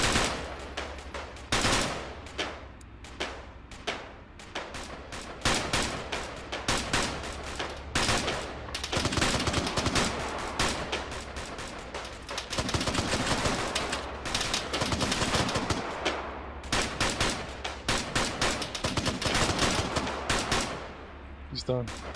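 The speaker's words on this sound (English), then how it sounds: "the mechanized unit is currently returning fire with absolute brutality" A mechanized unit returning fire in a military shooter game: dense, loud, nearly continuous gunfire with rapid bursts and heavy shots overlapping for the whole stretch, with voices talking under the barrage.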